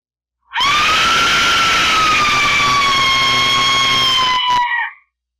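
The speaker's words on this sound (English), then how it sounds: "Number 4, the Aztec death whistle." An Aztec death whistle gives a single loud, piercing scream-like shriek that holds steady for about four seconds, then cuts off abruptly with a brief final burst.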